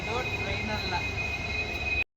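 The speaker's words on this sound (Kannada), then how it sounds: "ಇದೆ ಈ ಟ್ರೈನು, ನೋಡ್ಕೊ" A train passes at a railway station, giving a steady rumble of wheels with a thin, sustained metallic squeal above it. The sound holds constant, then cuts off abruptly at the end.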